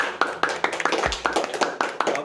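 A small group claps during an Indonesian student association talk show, an even rhythm of sharp, close handclaps repeating steadily over two seconds.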